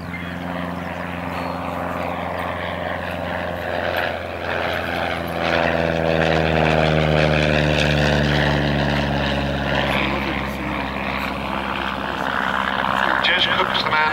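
A vintage Miles Whitney Straight propeller aircraft drones steadily overhead at a flying display at Abingdon, its engine pitch sliding slowly downward as it passes, loud and continuous with voices faintly present.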